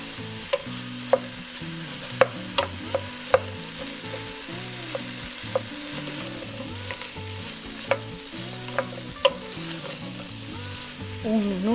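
Ají chili and onion sizzle steadily in a hot pan while a utensil stirs them, with sharp clicks against the pan scattered through a continuous frying hiss and background music playing underneath.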